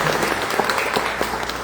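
A congregation in a Portuguese-speaking church service bursts into dense, close applause, with many hands clapping continuously at full volume for the whole moment.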